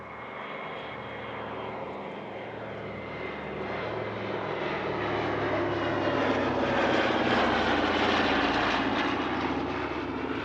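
A Douglas DC-3, a C-47A Skytrain in Air France colours, drones past on its propellers, the engine note swelling louder toward the middle and then easing slightly, with no voices.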